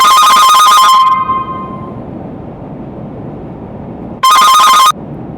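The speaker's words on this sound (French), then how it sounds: "désolé pour la sonnerie, c'est parce que j'ai un appel" A bright electronic phone ringtone plays loud and close for about a second, stops, then sounds again briefly a few seconds later over quiet room tone.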